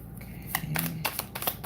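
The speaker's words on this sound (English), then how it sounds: "I always shuffle on camera." A tarot card deck is shuffled in a short, quiet riffle of soft rapid flicks and taps, lasting about a second, with nobody speaking.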